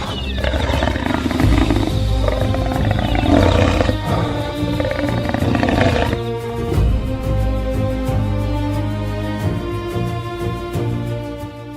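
A lioness roars and growls while attacking a calf on the savannah, with loud, rough roaring bursts over a dense wild-animal din that quiets slightly in the second half.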